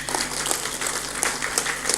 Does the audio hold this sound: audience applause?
yes